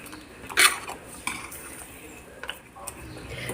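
A utensil stirs chicken curry in a pot, with a sharp metallic scrape near the start followed by lighter clinks and taps scattered across a quiet kitchen.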